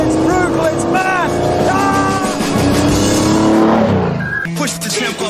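A lightweight car with a 6-litre V12 engine revs hard and loud through several rising gear pulls, its brutal howl continuous and close while someone talks over it.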